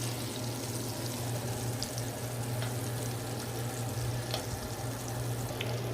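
Butter melting over low heat in a pan for cheesy scalloped potatoes, giving a steady soft sizzle and crackle with a low constant hum underneath, no talking.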